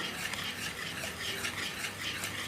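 Semolina and wheat cake batter with milk and vanilla, made without egg or curd, is stirred steadily in a bowl in one direction, producing a close, continuous swishing and rhythmic scraping with no voices.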